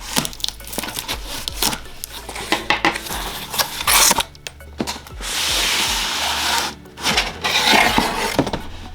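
An Xbox Series S being unboxed, with close, crisp rustling, rubbing and scraping of cardboard and plastic packaging, plus stretches of denser crinkling and sliding, and no talking.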